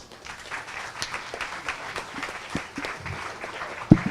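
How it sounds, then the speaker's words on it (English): Applause at a heifer show for a class of fall yearling heifers in the ring: a steady patter of moderate clapping from a crowd, with one sharp bump near the end. "Let's give them another big round of applause."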